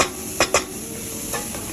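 Onions fry in a pan under a steady background hiss, with two short scraping stirs near the start and a fainter one later; no one talks.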